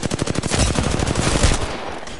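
Rapid automatic gunfire from a video game shooter rattles in a continuous fast burst, loud and close, with shots blurring together before tailing off.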